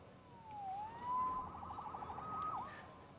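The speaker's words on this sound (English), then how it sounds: "Saved by the siren." A police siren wails in the Marvel's Spider-Man video game, its pitch sweeping and dipping over a steady background hum, moderately close and running without speech.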